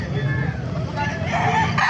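Hens clucking and a rooster crowing amid a busy crowd at the Bocaue market, with people talking nearby and a steady background hubbub.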